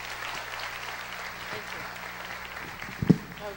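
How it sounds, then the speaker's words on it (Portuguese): A church congregation at an evening service claps to welcome a guest, a steady moderate wash of applause over a low hum, ending with a brief louder knock. "Vamos recebê-la com palmas"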